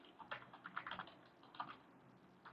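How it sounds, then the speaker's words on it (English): Slow, uneven keystrokes on a computer keyboard, quiet and close, clustered in short bursts with small pauses between them. "I'm typing kind of slow because I want to get my class names right."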